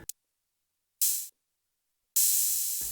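Open hi-hat samples from an IK Multimedia Uno Drum machine: a short tick, then two bright, airy metallic hisses, the second ringing longer, each alone and close.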